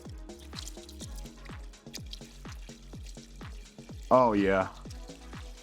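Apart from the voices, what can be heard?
liquid fertilizer poured through strainer into sprayer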